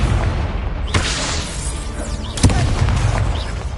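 Incendio fire spell cast in Hogwarts Legacy, heard as a loud whooshing burst over continuous rumbling combat noise, followed by a second sharp hit a moment later.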